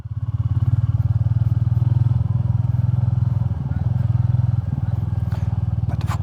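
Royal Enfield Classic 350 thumps along a gravel road, its single-cylinder engine pulsing steadily and loud and close, with crunching and clattering from the gravel surface underneath.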